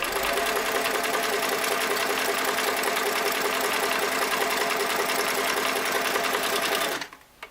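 A restored Singer Model 337 sewing machine stitches at a steady fast rhythmic clatter, loud and close, running alone for about seven seconds before stopping abruptly.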